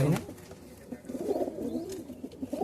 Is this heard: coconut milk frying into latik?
no